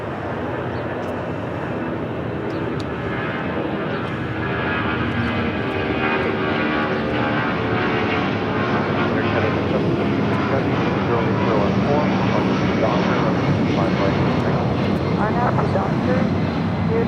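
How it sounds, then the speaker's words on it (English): A Boeing 757 rolls down runway 25 right at LAX, its engines a loud steady roar that builds over the whole stretch. Faint radio chatter runs underneath. "757, old TWA bird, rolling down at 25 right."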